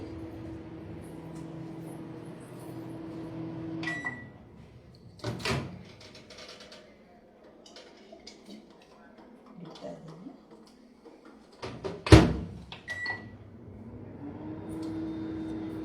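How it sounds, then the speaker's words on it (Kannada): An oven door being opened and closed as a dish is placed inside in a home kitchen, with a steady hum, a few sharp clunks and a loud bang near the end, under occasional talk. "ಈಗ ಇದನ್ನು ಓವನಲ್ಲಿ ಇಡೋಣ"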